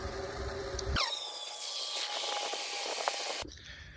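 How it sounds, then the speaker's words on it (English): Water rushing from a sprayer into an ultrasonic cleaner tank, a broad steady hiss that starts abruptly and stops after about two and a half seconds, with faint splashes. "So I'm going to start by filling this thing up with water."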